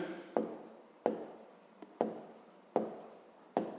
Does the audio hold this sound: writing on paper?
yes